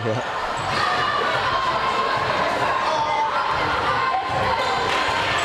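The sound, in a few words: crowd cheering at high school basketball game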